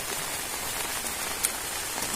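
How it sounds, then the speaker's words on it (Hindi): Heavy rain pours down outdoors in a steady, dense hiss that stays even and constant throughout, with no voices. "अब तो हमको ज्यादा बारिश हो रही है"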